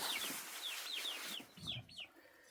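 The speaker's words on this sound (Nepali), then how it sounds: "ऊ हेर त कुखुरा कति राम्रो राम्रो रहेछ" Chickens making a run of short high chirping clucks and calls in quick succession, fairly close and clear against quiet surroundings.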